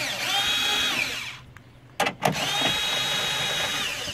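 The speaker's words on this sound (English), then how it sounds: "use my little drill here, and we're just going to start removing them" A cordless drill removing bolts from a Honda S2000 window regulator whirs steadily, stops briefly with a couple of sharp clicks and knocks, then spins up again, loud and close.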